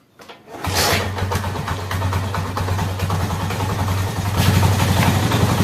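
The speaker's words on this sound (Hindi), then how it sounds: "अब आप देखिए बाइक को करता हूँ स्टार्ट।" After a moment of quiet, a Honda CD 70 motorcycle engine cranks and catches, then settles into a steady, close, throbbing idle that grows slightly louder.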